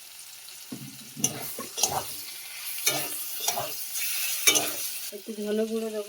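Bitter gourd, potato and tomato fry in a pan, sizzling under repeated stirring and scraping strokes, with someone speaking briefly near the end over the sizzle.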